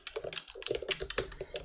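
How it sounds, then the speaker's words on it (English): Rapid typing on a computer keyboard while writing Java code, a close, irregular run of crisp key clacks with short pauses between bursts. "I start typing and then just follow along."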